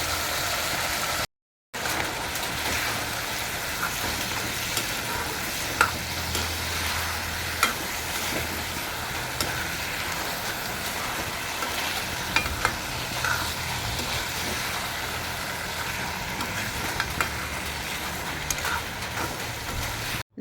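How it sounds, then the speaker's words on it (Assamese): Duck legs frying in hot oil together with onion: a steady, loud hiss and sizzle that runs for about twenty seconds, broken once by a brief silence near the start, with no talk over it. "পিঁয়াজ আগতে ভাজি নোলোৱাকৈ একেলগতে দি লৈছোঁ আৰু একেবাৰে ভাজি দিছোঁ"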